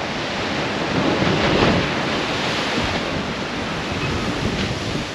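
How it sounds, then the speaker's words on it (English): Rough sea waves crash and surge at the Costa Maya cruise port, a loud, continuous roar of surf mixed with wind buffeting the microphone, with no talk. "These waves are still seriously rough."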